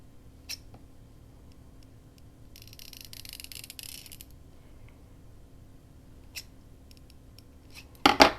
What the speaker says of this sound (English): So I'm going to cut here.